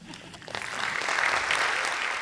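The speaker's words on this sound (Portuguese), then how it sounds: "A plateia rompe em aplausos com a leitura de Geni" An audience bursts into applause after a poetry reading, a dense close wash of clapping that swells and holds steady for a couple of seconds.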